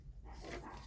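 Dogs barking in the background, a brief muffled bark heard faintly from a distance.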